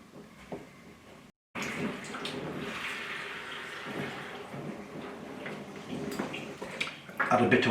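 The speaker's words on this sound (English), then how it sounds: "Add a bit of water, bring it to just below the level of the pebbles" Water poured into a rock tumbler barrel of mixed pebbles and filler material, a steady broadband rush of splashing and trickling with a brief gap, then continuing and growing louder toward the end.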